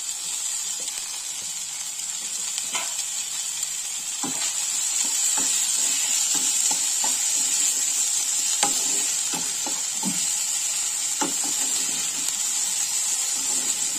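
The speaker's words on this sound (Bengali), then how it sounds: "সবগুলো ভাজা ভাজা হয়ে যাক" Spring onions and chopped chillies sizzle steadily in oil in a pan for a Bengali-style crab dish, a constant close hiss with occasional soft clicks of stirring, no voices.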